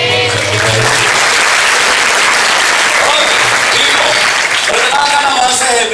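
School students at a motivation training session applaud loudly in a dense burst of clapping, with a voice speaking over it at times.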